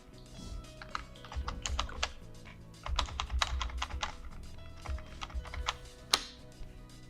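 Bursts of clicking keystrokes on a computer keyboard, close and fairly quiet, typed in irregular runs with short pauses and one sharper tap near the end.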